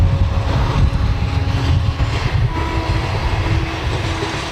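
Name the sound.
train passing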